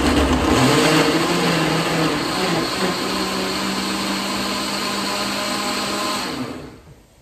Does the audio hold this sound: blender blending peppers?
yes